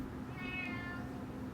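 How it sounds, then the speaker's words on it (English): A loud house cat gives a single drawn-out meow, somewhat muffled and partly blended into a steady background of room noise. "I have a very loud cat"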